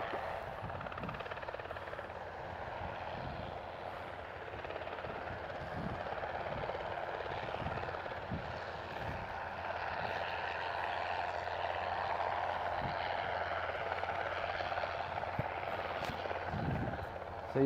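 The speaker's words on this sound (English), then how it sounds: "I'm not sure what the helicopter is all about." Helicopter flying overhead near Dover, a steady loud rotor drone with regular low thumping that lasts throughout, under occasional distant sounds.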